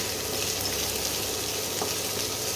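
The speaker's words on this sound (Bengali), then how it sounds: "একটা টমেটো কুচি করে কেটে এর মধ্যে দিয়ে দিলাম একটু টমেটোটা নরম হবে" Chopped tomato fries with prawns in a pan, giving a loud, unbroken sizzling hiss that holds steady throughout.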